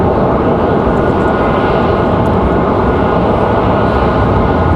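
A Boeing 777 airliner arrives at Raleigh-Durham International Airport, a loud, dense, continuous engine roar that stays close and steady throughout, with no voices.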